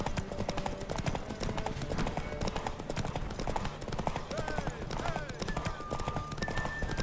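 A horse gallops steadily in The Witcher 3 video game, hooves clip-clopping in a continuous rhythm with an occasional whinny, under in-game voices and music throughout.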